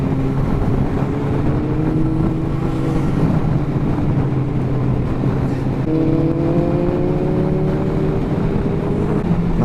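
A Yamaha R1 motorcycle passes on a road with a rising, shifting engine whine, heard over the steady drone of a riding motorcycle's own engine and wind.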